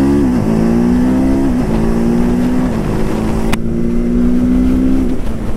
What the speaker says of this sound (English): This is the exhaust note which you will hear.